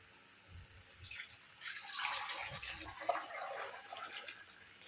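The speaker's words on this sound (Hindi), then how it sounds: "2 लीटर पानी अब ऐड करूँगी।" Two litres of water poured into a yogurt, gram flour and spice karhi mixture with fried onions, a steady soft splashing gush rising and falling for several seconds, with no talk.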